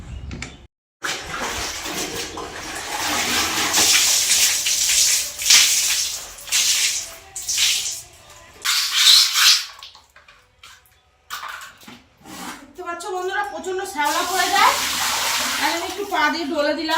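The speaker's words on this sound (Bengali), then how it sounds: "আমি এখন কোনো রকম পাইপে করে করে চান করি।" Water from a pipe splashes and pours during bathing at home, a steady rushing wash broken by short pauses, with a person talking over parts of it and a voice near the end.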